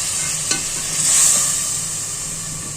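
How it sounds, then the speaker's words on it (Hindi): Tomato and spice masala being stir-fried in a pan for aloo gobhi, a steady close sizzle with soft scraping stirs and one sharp tap early on, no voices. "ठीक है, अब हम इसको अच्छी तरह भूनेंगे।"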